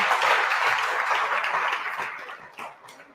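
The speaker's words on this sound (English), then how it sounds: "give a round of applause for that, please" Applause from a workshop audience in Mamelodi for a self-taught baker entrepreneur, with a warm round of clapping that starts full and gradually thins out, leaving a few scattered claps near the end.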